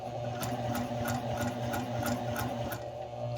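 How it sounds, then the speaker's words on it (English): A sewing machine stitches a practice sample at a shorter stitch length, giving a steady, even run of quick needle ticks with a constant motor hum throughout, fairly quiet and close. "Now as I sew, you'll see the stitches are going to be a little bit different"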